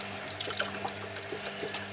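Drain water from a washing machine trickles and splashes steadily, a faint continuous watery patter with small bubbling bursts and no voices.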